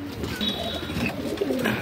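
An old-generation Madrasi male pigeon coos softly and briefly against a noisy indoor background.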